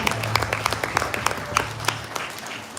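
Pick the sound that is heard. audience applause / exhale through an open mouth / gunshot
audience applause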